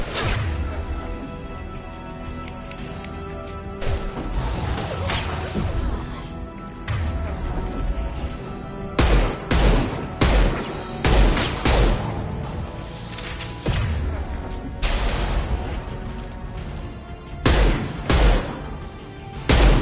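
Sniper gunfire and combat in the Mass Effect 2 video game, a run of sharp loud shots and crashing impacts over a rumbling battle bed, with voices calling out between shots.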